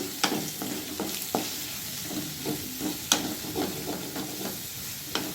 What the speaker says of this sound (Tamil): இப்போ இது நல்லா வதங்கினதும் நம்ம வெட்டி வச்சுருக்க மஷ்ரூமை சேர்த்துக்கலாம்.